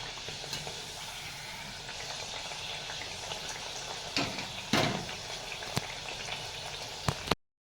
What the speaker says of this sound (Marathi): छान अशी खरपूस भाजून घ्यायची